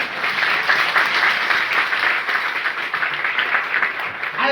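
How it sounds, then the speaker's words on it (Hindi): Loud, sustained clapping from an audience at a business training event fills the whole stretch as one dense, steady wash with no pauses. "बजा लो ताली जोरदार।"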